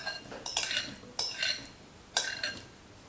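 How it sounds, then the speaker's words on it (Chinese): A spoon stirs glutinous rice flour dough with red beans in a bowl, giving a few soft scrapes and light clinks against the bowl at an unhurried pace, close and fairly quiet. "再次搅匀"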